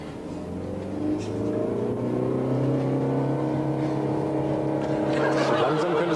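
A car engine hums steadily and revs up while driving, rising in pitch as the driver shifts into second gear, heard up close from inside the car with no talk.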